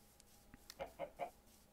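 A chicken in the video game Minecraft gives a few soft, quick clucks in a short run, quiet and close, against a faint steady background.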